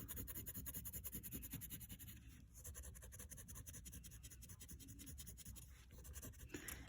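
Pencil shading on paper, a steady close scratchy rasp of graphite strokes running continuously with a brief pause partway through, no voices.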